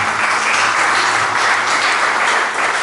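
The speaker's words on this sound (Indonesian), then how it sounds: "mari kita tepuk tangan yang meriah untuk Tuhan Yesus" Loud, dense congregational applause at an Indonesian Sunday worship service, continuous clapping from a large crowd filling the whole moment without pause.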